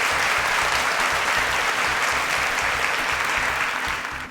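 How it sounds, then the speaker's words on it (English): A round of applause from a studio audience at the Interswitch SPAK competition show, a loud, dense, steady wash of clapping from many hands, easing off slightly just before the end. "A round of applause."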